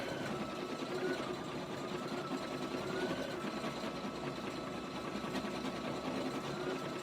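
Sewing machine stitching satin stitches on a baseball applique, a steady, fast, even whirring hum that runs without pause at moderate volume.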